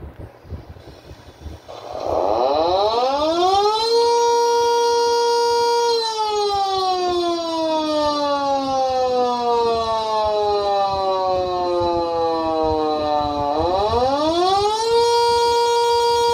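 A loud homemade mini speaker siren imitating an electromechanical siren winds up to a sustained wail, slowly sags in pitch, then spins back up again, droning alone throughout.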